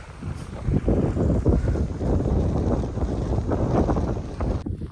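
Heavy wind buffets the microphone continuously while climbing England's highest peak, a loud low rumble with gusty surges throughout and no voices.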